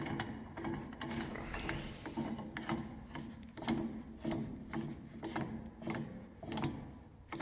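Lift pads on an Advantage AL-SC10 two-post lift are screwed in and out, producing repeated rasping, ratcheting scrapes in an uneven rhythm, close and fairly loud, with no talking.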